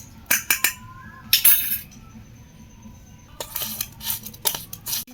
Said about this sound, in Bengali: এগুলোকেই আমি একটু মিশিয়ে নিলাম মুড়ির সঙ্গে